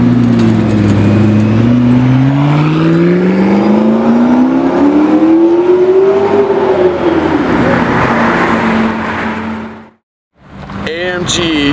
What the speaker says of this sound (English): AMG GT Black Series.